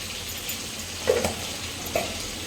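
Cabbage curry finished with garam masala powder and chopped coriander leaves is stirred in a pan: two soft scraping strokes over a faint, steady sizzle, quiet and close.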